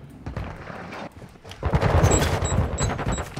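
Rapid rifle gunfire from the Anvil in Call of Duty MW2 ranked play on the Fortress map, with loud bursts of shots crowding the second half after a quieter, scattered start.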